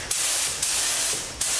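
A Wimpel MP-560 paint spray gun sprays in a loud, continuous close-up hiss. Sharp onsets mark each time the trigger is pulled.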